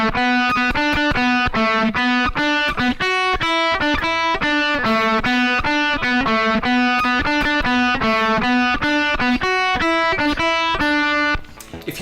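An electric guitar plays the solo from a song an octave lower, using open strings. Quick, evenly picked distorted notes run in a busy repeating pattern for about eleven seconds before cutting off.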